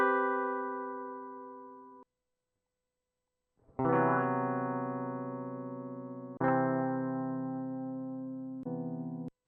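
Guitar chords played through ambient effects and reverb, several strummed chords that each ring out and slowly decay, separated by a brief silence, with no voice present.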